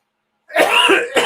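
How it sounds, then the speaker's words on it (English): A smoker's cough, one harsh burst of coughing and throat clearing that starts abruptly after a brief silence, close and loud, with a short second burst at the end. "It's not COVID, it's a smoker's cough."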